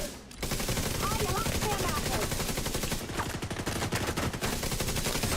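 Rapid sustained turret gunfire from The Division, dense repeated shots running continuously and loudly for several seconds after a brief quiet start.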